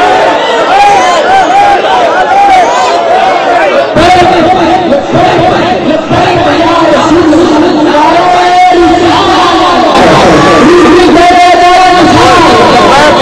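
A large crowd at a religious gathering shouts slogans in unison, loud and continuous, with bursts of massed voices rising over the general din.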